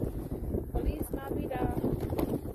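Wind in snowy winter weather buffets the microphone with a steady low rumble and gusty roar that lasts the whole short stretch.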